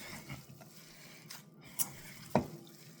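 Italian meatloaf (polpettone) mixture is being mixed by hand in a bowl, giving soft squishy, wet stirring sounds with a couple of sharp clicks and knocks, quiet and close with no talk.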